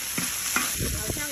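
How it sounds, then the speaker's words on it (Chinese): Tofu and onion stir-frying in hot oil in a wok, a dense hissing sizzle with three quick stirring strokes, close and loud. "油热下入豆腐， 把豆腐里的水分给它炒出去，下入洋葱，"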